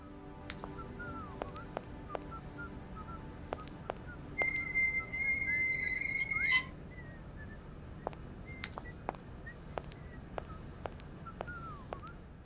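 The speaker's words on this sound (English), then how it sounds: "I hear whistling. Is the whistling in the game?" Whistled tones drift through a scene in the Syberia adventure game, a bright steady pitched phrase lasting about two seconds in the middle, set among scattered sharp clicks and bird-like calls over a low ambient bed.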